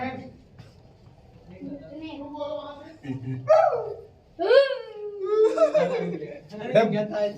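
A man imitates a dog with yelping, whining barks inside the Bhul Bhulaiyya labyrinth of Bada Imambara in Lucknow, voiced in several loud bursts between other people's talk.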